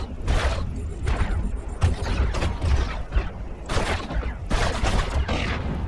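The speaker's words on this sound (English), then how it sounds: "we get a lot of damage from those missile batteries" Missile battery fire in a space combat game, heard as repeated bursts of loud, dense launching and explosive noise that rise and fall over a constant rumbling bed, with no talk.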